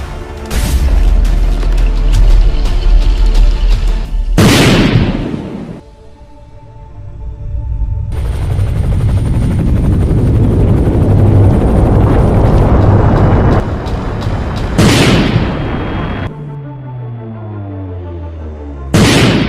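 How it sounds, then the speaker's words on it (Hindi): Cartoon missiles launching, with loud rushing whooshes and booming blasts, a long roaring streak of sound rising in the middle, and sharp bursts near the start and end, close and loud with no talking. "जल्दी से मिसाइल्स फायर कर दो"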